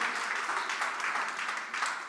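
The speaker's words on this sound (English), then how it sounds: "Let's give her a round of applause" Audience at a talk event gives a round of applause for a volunteer, a brief, steady burst of many people clapping, moderately loud and heard alone.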